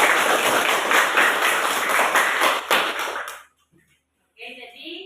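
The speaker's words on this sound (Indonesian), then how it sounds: "Kita tepuk tangan sekali lagi untuk kelompok 1." A school class applauding a student group in a biology lesson, with bright, crowded clapping for about three seconds that stops abruptly, followed by a brief silence and then a voice speaking.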